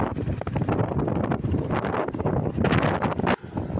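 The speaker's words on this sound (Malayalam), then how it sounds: "ഭയങ്കര കാറ്റായിരുന്നു." Strong wind buffets the microphone continuously, roaring and gusting close up along a hill road on a motorcycle trip towards Vagamon and Cheruthoni.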